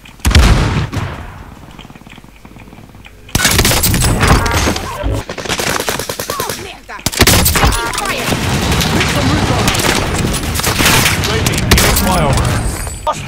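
Gunfire in Warzone Caldera, with dense bursts of automatic fire and booming shots crackling almost nonstop, loud and close, while radio-style voices call out over the fighting.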